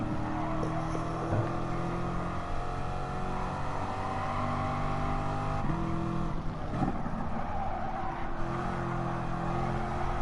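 Race car in Gran Turismo Sport, a loud sustained engine drone with shifting pitch as the car slows and downshifts under braking, a brief clunk near the middle, steady and close throughout without talk.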